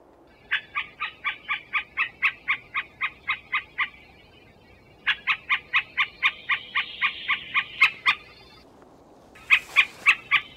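Lure playback of a middle spotted woodpecker call in a forest, loud bursts of rapid, evenly spaced nasal notes repeated about ten times each, three series separated by short pauses.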